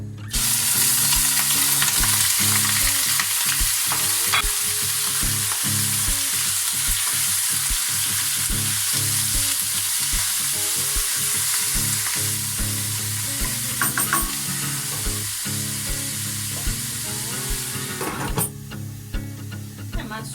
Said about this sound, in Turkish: Biraz sıvı yağ ilave ediyorum. Etimi ilave ediyorum içine.